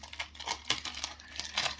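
Plastic wrapping being opened on a Blu-ray case, giving a series of faint, close crinkling and tearing rustles in irregular bursts, with no talking.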